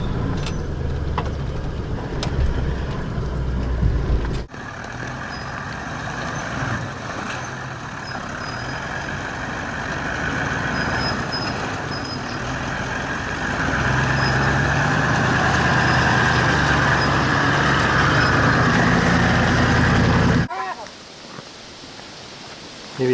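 A 4WD vehicle crawls slowly over deep, dry ruts off-road. A low, steady engine rumble mixes with rattles and bumps, while voices talk over it.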